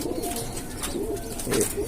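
Soft pigeon cooing in a low, murmuring rhythm, with a few phrases rising slightly louder near the end, over a steady background hum.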